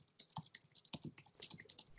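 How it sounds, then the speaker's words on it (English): Typing on a computer keyboard, a quick steady patter of close, crisp key clicks running through the whole short stretch, alone and fairly quiet. "I'm typing it up here."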